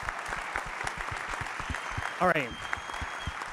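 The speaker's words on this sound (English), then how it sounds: "round of applause" Applause from a gala audience at a colorectal cancer research fundraiser, a steady patter of claps with a voice briefly speaking over it partway through.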